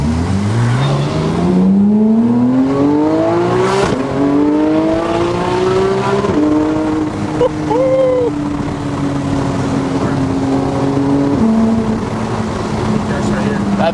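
A manual Porsche engine revs hard under throttle from inside the car, its howl climbing steadily through the gears with a brief dip at each shift, loud and close, while people talk over it.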